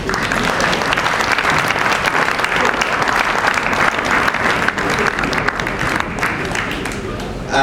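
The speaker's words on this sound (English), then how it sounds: "I would like you to give Fela Abani a round of applause" Sustained audience applause at a theatre festival in Lagos, dense and steady clapping from a large crowd that fills the whole stretch and tapers slightly near the end.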